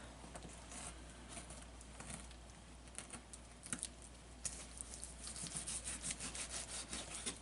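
A knife saws through tender smoked pork ribs with quiet, rasping back-and-forth strokes, faint and close, the scraping growing busier and more rapid toward the end with no voices.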